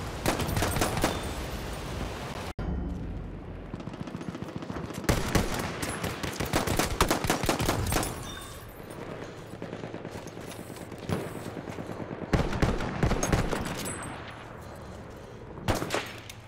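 Rapid pistol shots crack out in bursts during Battlefield 1 gameplay, loud and sharp, with short gaps between volleys and other distant gunfire and game noise around them.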